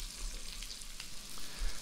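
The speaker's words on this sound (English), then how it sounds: "So the potatoes have been cooking for a few minutes now." Potatoes frying in hot oil in a pan give a steady, close sizzle with soft crackling pops throughout, and no one speaks.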